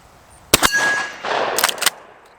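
A rifle bullet strikes a swinging steel gong target at a shooting range, giving a sharp metallic clang with ringing decay, followed about a second later by a second burst of a couple of clanging impacts.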